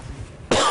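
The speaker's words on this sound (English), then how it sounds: "Pardon me, I don't have a cough button." A single sharp, loud cough bursts out near the microphone from a hockey broadcast commentator, following a brief stretch of quiet room noise.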